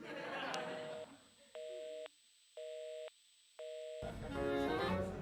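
A telephone call plays repeated tones signalling an unreachable, inactive number: three evenly spaced beeps about a second apart, heard clearly through the handset between stretches of muffled background sound.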